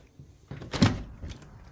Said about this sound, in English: Do you want me to open the door